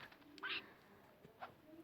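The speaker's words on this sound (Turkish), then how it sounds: "Kuş." A brief bird call rings out twice, a short chirp followed by a fainter one, against quiet background noise.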